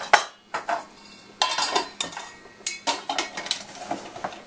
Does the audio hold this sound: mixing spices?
yes